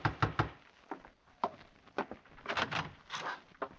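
Knocks hit a door in a radio drama, arriving as uneven clusters of sharp raps, some loud and close, spaced irregularly across a few seconds with no speech.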